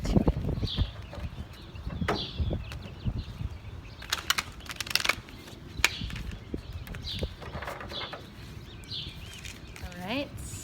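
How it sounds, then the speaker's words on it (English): A deck of cards being shuffled indoors, with quick riffling bursts and soft flicking, slapping strokes. A voice speaks quietly between them. "let me just give this shuffle"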